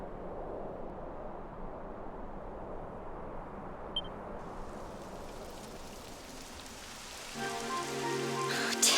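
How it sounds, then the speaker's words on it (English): Rain falling in Dragon Quest XI, a steady hiss of rain on surfaces filling the scene, with a brighter swell of game music or ambience rising near the end. "It would have to go and start raining, wouldn't it?"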